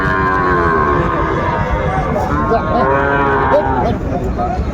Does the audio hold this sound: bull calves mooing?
yes